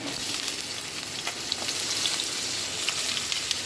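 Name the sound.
oil splattering while frying in a pan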